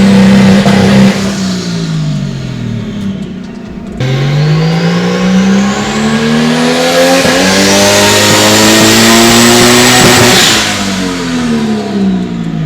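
Nissan 240sx with an RB20DET engine on E85 fuel revving hard on a dyno, a loud near engine climbing through the revs in two long pulls, with rising whine and a sharp drop-off at the end.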